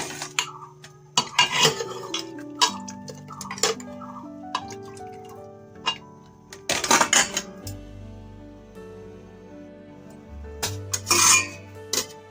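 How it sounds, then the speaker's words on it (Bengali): Boiled eggs being lifted from a pot and dropped into a bowl of cold water for a Bengali egg dal, giving a run of clinks and knocks of metal utensils and dishes, close and fairly loud, with quiet gaps and no talk. "ডিমগুলোকে তুলে একটু ঠান্ডা জলে দিয়ে নিব"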